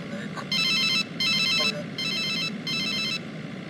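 A phone ringtone for an incoming call sounds in four evenly spaced bursts, bright and electronic, each about half a second long, over a steady low background hum with no talking.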